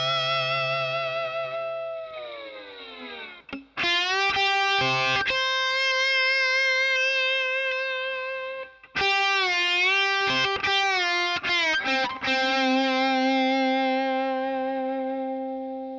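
Slide guitar with distorted, chorus-tinged tone plays the opening line of a song: gliding sustained notes, bursts of quick picked notes, and a long ringing note at the end, with no talking.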